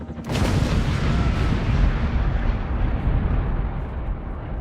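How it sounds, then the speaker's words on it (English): Satchel charges dropped by police onto a rooftop bunker in Philadelphia explode in a sudden loud blast, followed by a long, dense rumbling roar that slowly fades, with no voices. "seconds later, the explosion ripped through the structure."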